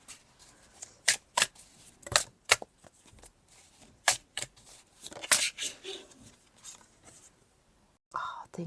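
Tarot cards are drawn and handled in a string of crisp, close snaps, slides and shuffling flicks at an irregular pace, with soft whispered speech in between.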